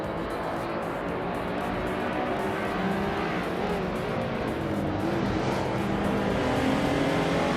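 A 2000 BMW Z8 launches off the line in a racing video game, a steady engine drone with other cars roaring around it, moderately loud and continuous with no talk.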